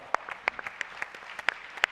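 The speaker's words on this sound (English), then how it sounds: "Give her a round of applause." A summit audience gives sparse, scattered applause, a handful of distinct, uneven claps ringing out at close range without a full crowd swell.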